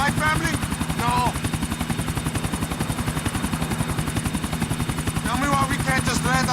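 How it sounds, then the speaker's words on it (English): Helicopter in Grand Theft Auto IV: The Ballad of Gay Tony, its rotor beating in a steady loud chop throughout, with bursts of gunfire and speech-like game voices mixed in. "I will fly chopper."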